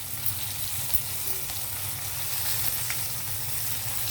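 Crushed tender tamarind leaves sizzle as they fry in oil for tamarind-leaf pulihora, a steady, fairly quiet frying hiss with faint occasional crackles.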